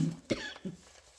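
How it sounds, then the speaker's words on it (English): A person coughs several times in short, quiet bursts, with small pauses between each one, recorded close up. "Coughing"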